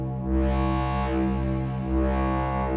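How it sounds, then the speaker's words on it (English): A sustained wavetable synth drone with rich harmonics from a Plaits module swells and fades, washed in diffuse reverb that smears the tone into a lingering, spacious haze. "the modify knob controls like how diffuse the reverb is"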